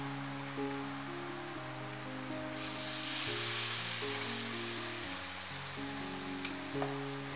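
Banana fritter batter drops into hot cooking oil and fries with a dense, close crackling sizzle that swells midway, under a quiet tonal background and with no talking.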